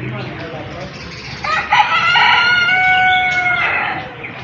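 A rooster crows loudly nearby, one long drawn-out call with a rising start and sustained middle, over a steady background hiss like rain.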